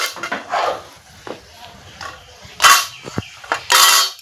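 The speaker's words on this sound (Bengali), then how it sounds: "এখন আমি গ্যাসটা অফ করে দিলাম গ্যাসটা অফ করে দিয়ে আমি এই কড়াটা নামিয়ে নিচ্ছি" A metal wok (kadai) holding a homemade medicinal oil is lifted off a gas stove after the burner is switched off, giving scattered close metallic clanks, scrapes and knocks of varying loudness.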